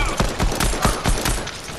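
Rapid gunfire in the video game Fortnite crackles in a fast, loud string of shots, about five sharp bursts within under two seconds.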